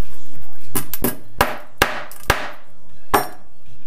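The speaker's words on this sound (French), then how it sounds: "Je vais y mettre 2-3 petits coups de marteau." Hammer tapping a bent exhaust silencer clamp straight on a 250 TE dirt bike, six sharp metallic strikes at uneven intervals, loud and close with a brief ring after each.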